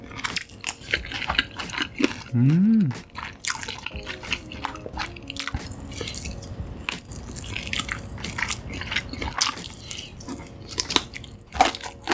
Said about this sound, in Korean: 다음은 탄두리 치킨 먹어보겠습니다